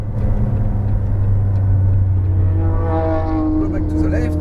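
A McLaren 570S on a race track gives a loud, steady engine drone that climbs in pitch as it accelerates, with an instructor talking over it.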